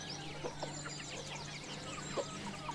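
Native village chickens clucking in a small backyard poultry flock, with repeated overlapping clucks and calls over a steady farmyard background hum, fairly close and continuous.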